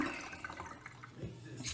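Water rushing steadily through a newly replaced whole-house water filter system after the supply is turned on, a continuous hissing flow at moderate level with no talk.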